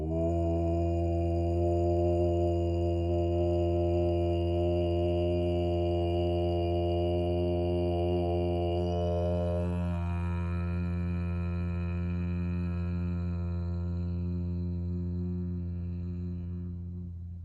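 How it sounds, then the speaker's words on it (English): A sustained, steady chant of the mantra Om rings out alone as one long voiced tone during a restorative yoga session, rich in harmonics and shifting in vowel colour midway before slowly fading at the end. "we're going to chant the mantra Om"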